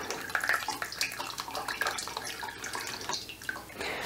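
Soy milk pours and drains through a strainer into a bowl, a close, continuous watery splashing and trickling that surges and eases unevenly, with no speech over it.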